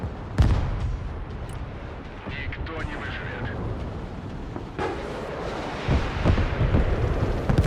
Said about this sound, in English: I guess I could, like, try and mortar this.